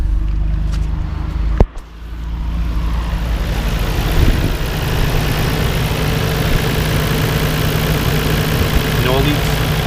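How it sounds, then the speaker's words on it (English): A Nissan R32 GTR engine idles steadily after a fuel filter change, a loud continuous rumble from start to finish, with one sharp knock early on. "Okay, I think it's full, let's start it."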